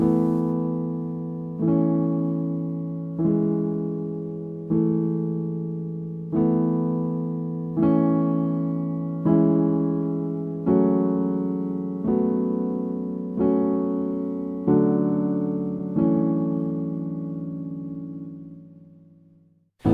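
Piano chords of the verse of a song struck in a steady pattern, roughly one every one and a half seconds, each ringing and decaying before the next, ending on a long fading chord.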